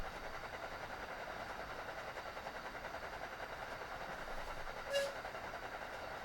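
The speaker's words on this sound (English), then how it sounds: "Sound like a little steam whistle." A little steam whistle sounds once, brief and distant, over a steady rumble of a train in the video game Train Sim World 2, on the Boston Sprinter rush hour route.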